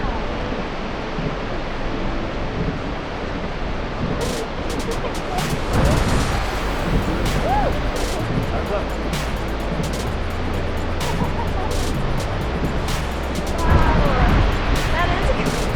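Powerful ocean waves crashing on the rugged West Coast of New Zealand's South Island, a continuous loud roar of surf with wind noise and a few brief bursts, people talking over it.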